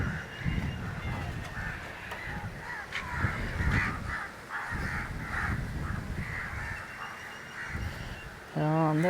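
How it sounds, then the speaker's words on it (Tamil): Crows call repeatedly over a dry-fish drying yard in Kurunagar, a steady chorus of harsh caws at moderate distance, with a vehicle horn honking briefly near the end. "பாப்போம் காக்கா வருதா இல்லையான்னு."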